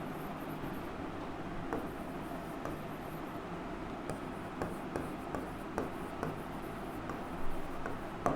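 Teacher writing on a board during a Hindi-medium English grammar class, a steady scratchy stroking with intermittent taps, continuous and fairly close over faint room noise, no talking.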